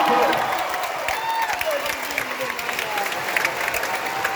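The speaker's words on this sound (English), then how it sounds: "round of applause for this guy" Audience at a concert in Melbourne applauding, dense steady clapping with scattered cheers from a nearby crowd, voices talking over it.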